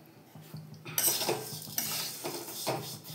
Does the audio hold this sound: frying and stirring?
yes